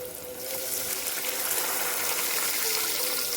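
Water poured steadily into a cooking pan for upma, a continuous close gushing and splashing that keeps going without a break for the whole stretch.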